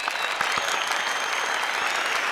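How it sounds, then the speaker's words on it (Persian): A studio audience claps steadily and fairly loudly for the full stretch, a dense, continuous patter of many hands at close range, with no voices on top of it. "دوستا تشویق."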